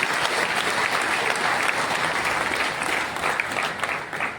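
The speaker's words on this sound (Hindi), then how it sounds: "एक बार तालियों की गड़गड़ाहट से हम धन्यवाद अर्पित करें" Thunderous applause from an audience at a political speech in Shivpuri, dense and loud throughout, a sustained crowd ovation that tapers slightly near the end.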